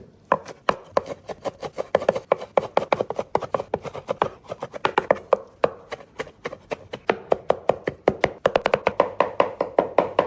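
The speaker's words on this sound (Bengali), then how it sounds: "এখন ধনিয়া পাতাগুলো ভালো করে চপ করে নিচ্ছি ধনিয়া পাতা চপ করার পর কাঁচামরিচ" A knife chops coriander leaves and green chillies on a board in quick, steady strokes, close and crisp, with a brief pause before the rhythmic chopping resumes.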